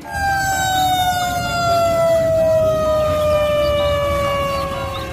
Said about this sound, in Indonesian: Wow, ada mobil pemadam kebakaran panjang sekali teman-teman.